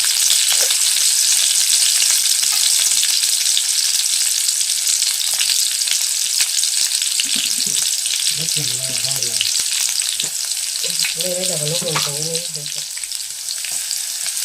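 Green chillies frying in hot oil give a loud, continuous crackling sizzle close by, with faint kitchen thumps and a brief muffled rumble partway through.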